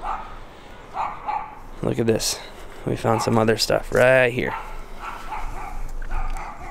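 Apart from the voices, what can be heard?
dogs barking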